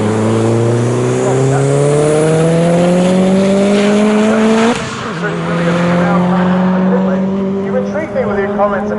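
Honda Civic FK8 race car with a K20 engine lapping a circuit at a time attack event, engine note rising steadily through the gears, a brief lift and shift midway, then pulling hard again, loud and close, with commentary talk over it.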